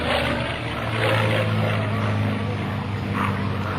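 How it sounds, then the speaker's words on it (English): A P-51D Mustang propeller fighter flying a big round loop at an airshow gives a loud, steady droning roar that swells slightly as it passes and stays strong throughout. "The nice big old round Barnes Stormer loop, Mr. Jim Beasley, in his beautiful P-51 Mustang."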